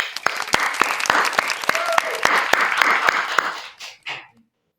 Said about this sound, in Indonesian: Beri tepuk tangan dulu sahabat-sahabat.